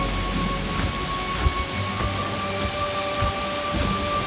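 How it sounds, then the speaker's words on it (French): A thunderstorm brings steady heavy rain pattering on surfaces, with low rumbles of thunder rolling underneath and a few sharper cracks, continuous and close with no voices. "Une tempête se prépare."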